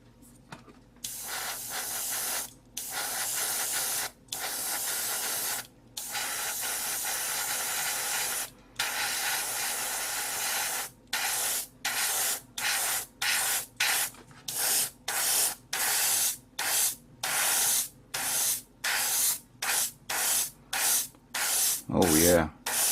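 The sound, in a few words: AIRGOO compressor-driven airbrush spraying red paint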